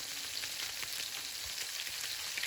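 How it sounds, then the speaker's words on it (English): Chicken pieces laid skin side down fry in a hot oil and butter mix over medium heat, giving a continuous bright, even sizzle close up with no voices. "Now add the pieces of chicken skin side down onto the hot oil butter mix and fry on the skin side for 5 minutes on medium heat."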